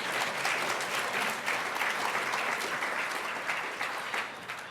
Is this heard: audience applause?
yes